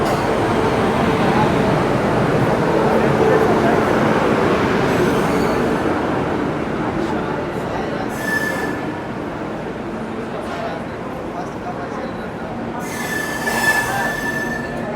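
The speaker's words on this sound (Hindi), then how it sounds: "यहाँ पे अपनी साईरांग की ओर जाने वाली राजधानी एक्सप्रेस लगाई जा रही है आनंद विहार प्लेटफॉर्म नंबर 3" The Sairang-bound Rajdhani Express rolls into platform 3 at Anand Vihar station, with loud, continuous wheel rumble and high squeals of wheels on rail that fade as it slows, while someone talks over it.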